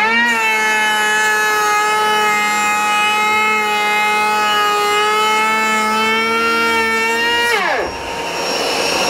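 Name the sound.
Boycie's Barrelback engine starter cranking on weak battery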